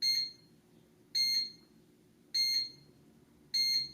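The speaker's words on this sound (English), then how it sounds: "Those beeps mean our bread is done" Four evenly spaced electronic beep bursts, each a quick double chirp, sharp and clear from an Oster Expressbake bread machine signalling the bread is done, with no talking.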